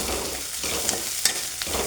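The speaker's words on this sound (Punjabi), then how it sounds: "ਹੁਣ ਮੈਂ ਲਵਾਉਣੀ ਤੜਕਾ ਲਾ ਕੇ" A tempering (tadka) for a radish-and-milk sabzi sizzles steadily in a hot pan, a loud continuous frying hiss broken by a few sharp crackles and pops, with no voices.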